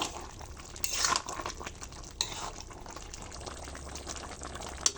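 Boiled green jackfruit curry with cumin and garam masala powder is stirred in a pan, giving a soft, steady bubbling and scraping hiss with a couple of brief louder clatters.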